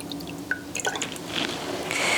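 Water drips and trickles from a rock wool cube lifted out of water, making a few close, soft droplet splashes and a light wet squish.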